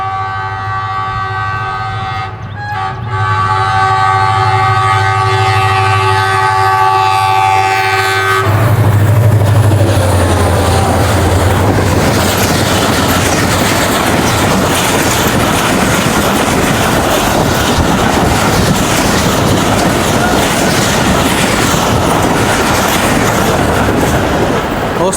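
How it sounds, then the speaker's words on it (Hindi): The Pakistan Express passes at speed through Jungshahi station behind a leading HGMU diesel locomotive. The engine's steady drone builds to a loud, close roar, then continuous wheel and wagon rumble with rhythmic clatter fills the rest, with no talk. "दोस्तों 45 पाकिस्तान एक्सप्रेस HGMU"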